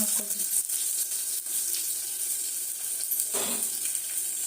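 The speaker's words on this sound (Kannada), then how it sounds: "ಇವಾಗ ನಾವಿಲ್ಲಿ ಬೆಳ್ಳುಳ್ಳಿ ಮತ್ತು ಈರುಳ್ಳಿನ ಫ್ರೈ ಮಾಡೋಕ್ಕೆ ಇಟ್ಟಿದ್ದೀವಿ" Garlic and onion frying in a pan give off a close, continuous soft sizzle and hiss, with a few faint kitchen clinks.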